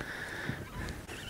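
Geese honking in spring, a continuous chorus of nasal calls carrying over open water outdoors, moderately distant, with no voices over it.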